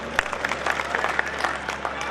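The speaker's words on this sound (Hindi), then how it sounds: "ताली बजाओ" Audience clapping at a Hindi poetry gathering (kavi sammelan) in Chidawa, a busy wash of many hands with a few sharper claps standing out, steady for about two seconds.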